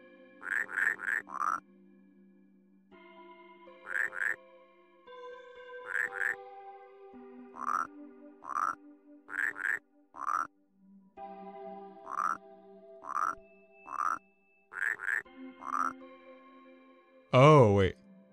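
Repeated croaking frogs from the puzzle game Rusty Lake Paradise, sounding in short clustered bursts of tonal, throaty calls separated by brief pauses, with a louder, sweeping croak at the end.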